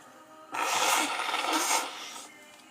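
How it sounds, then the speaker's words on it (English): A single loud, breathy nose blow lasting over a second, a broad rushing burst that swells twice before trailing off, close to the microphone. "going to blow my nose right now"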